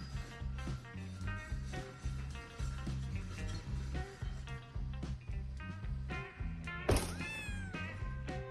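A cat meows several times over a steady, rhythmic music track, the cries rising above the beat and one loud yowl standing out near the end.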